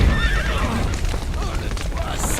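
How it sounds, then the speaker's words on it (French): Horses in The Witcher 3 whinny repeatedly over a busy bed of hooves clip-clopping, loud and near, with game ambience mixed in. "Ah, les chevaux. On va libérer les chevaux."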